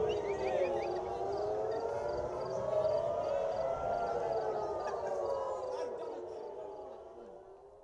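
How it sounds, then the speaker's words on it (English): Air raid sirens wailing in Nahariya, northern Israel, a distant rising and falling civil defense tone that holds steady and then slowly fades. "Sirens sounded in Nahariya, northern Israel, as rockets fired from Lebanon were intercepted on their way to Haifa."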